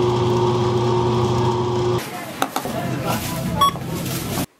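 A small food processor or grinder runs steadily as fresh peanut butter is ground for cookies, a close, loud motor hum that stops partway, then soft scraping and clicking sounds follow.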